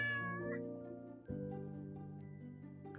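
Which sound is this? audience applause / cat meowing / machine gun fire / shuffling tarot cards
cat meowing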